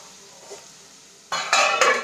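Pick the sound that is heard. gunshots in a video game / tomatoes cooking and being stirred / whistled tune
tomatoes cooking and being stirred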